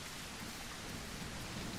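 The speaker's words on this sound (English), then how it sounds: "Oh, it's a thunderstorm." Steady, even rain hiss from a thunderstorm in a dinosaur game, faint and continuous for a couple of seconds, with no distinct thunderclap standing out and no voices.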